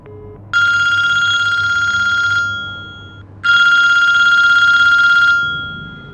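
A telephone rings in two long electronic bursts, loud and close, each trilling for about two seconds with a short pause between and a brief ringing tail, with no voices.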